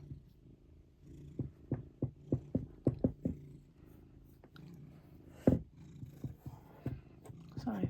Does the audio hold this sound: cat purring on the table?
yes